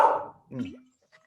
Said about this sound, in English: And excuse the dog.